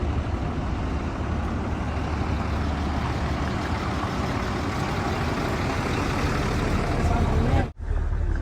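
Inside a workers' bus at Masjid Nabawi, the engine runs with a loud, steady low rumble that fills the cabin, cutting off abruptly near the end before resuming.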